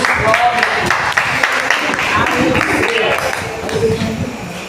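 Church congregation clapping during a communion service, a broad wash of many hands mixed with voices and shouts of praise, loud and continuous throughout.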